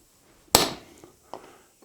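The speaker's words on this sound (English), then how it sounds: "I'm going to use a ball end punch to create some places to drill my holes." A ball end punch is struck into metal to mark hole positions: one sharp, loud metallic strike, then a few faint lighter taps trailing off in a quiet room.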